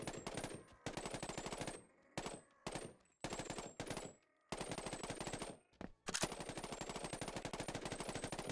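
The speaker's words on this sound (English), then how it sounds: "This is a fully automatic, customizable M13. The sounds are taken from Modern Warfare 2019." Fully automatic customizable M13 rifle in a Boneworks VR mod, with Modern Warfare 2019 gun sounds, ripping off in rapid sharp bursts separated by short pauses, loud and close, with no talking.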